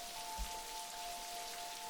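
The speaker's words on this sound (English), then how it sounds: "Just try and enjoy the rain." Steady rain from the video game Necrobarista patters as a soft, even wash, with a faint low thump near the start and a quiet held tone running underneath throughout.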